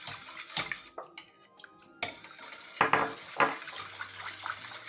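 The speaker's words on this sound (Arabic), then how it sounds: "ضروري خصنا نخلطوا الياغورت مع الحليب مزيان مزيان" Homemade yogurt mixed into milk in a bowl, irregular clinks and scrapes of a spoon against the vessel with soft liquid swishing, close and moderately loud.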